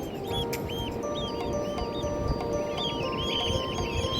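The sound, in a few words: seagulls calling at the seaside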